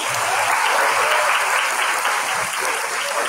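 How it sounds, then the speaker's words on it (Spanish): Dense, steady applause from a seated audience fills a hall at the opening of an international seminar, continuous and even without a break. "Mais aplausos para a mesa, por favor."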